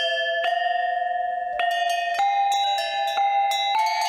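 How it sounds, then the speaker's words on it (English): A chain of large bells struck one after another, ringing tones that overlap and sustain, each new strike adding a bright, clear attack, with no talk. "and a chain of large bells."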